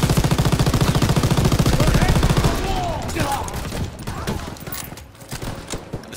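Rapid machine-gun fire in a Call of Duty WW2 D-Day battle rattles loud and continuous at first, then fades into scattered shots and battlefield din.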